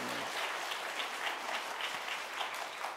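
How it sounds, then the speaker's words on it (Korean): Church congregation applauding at a Korean Methodist district revival service commemorating the Reformation anniversary, a steady wash of many hands clapping throughout, moderately distant and even with no talk over it. "박수 한번 해요."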